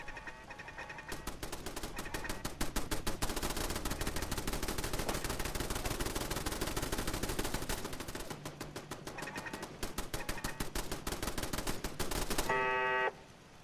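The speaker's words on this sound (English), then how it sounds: "Oh, the guns are still working." Sustained automatic gunfire from weapons in the video game Fallout 4, rapid rattling bursts running almost continuously with a brief pause midway, loud and dense, ending in a short metallic electronic tone.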